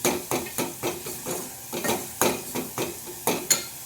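Masala roasting in oil in a pan for chicken sukha and rassa, stirred in quick rhythmic scrapes with a steady close sizzle between strokes.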